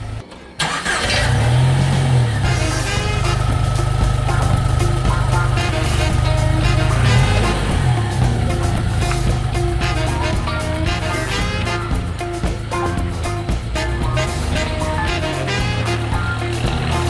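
A Jeep Wrangler TJ, recently fixed for a high idle, starts up and then runs through a test drive. The engine catches with a brief crank, settles into a loud steady mid-pitched hum and shifts slightly in pitch as it pulls along.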